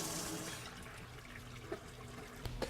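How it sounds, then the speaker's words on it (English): Rinse water pours out of the recovery hose of a Fang 20C automatic floor scrubber, a steady wash of flowing liquid with a few small splashes near the end, close and fairly quiet. "take a hose, rinse out the sidewalls of the scrubber itself, and watch it flow out of the recovery hose until you have clear water"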